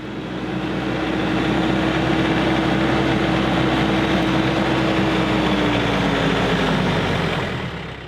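A tractor engine idles at a steady, loud, close rumble with a faint droning whine running through it, holding an even level from start to finish with no talking.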